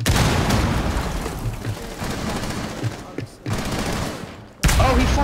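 Rapid gunfire bursts and booms from Rainbow Six Siege fill the scene in dense, loud clusters, with a brief lull before another sharp burst near the end.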